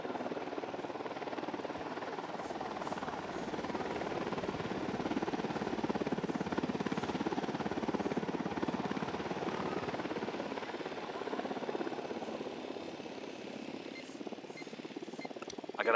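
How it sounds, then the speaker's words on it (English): A helicopter from the Ghost Recon Wildlands video game hovers in the distance, a steady throbbing rotor drone with a rough, broadband texture that holds at a moderate, even level throughout, with no voices. "Who need that chopper? Stay low."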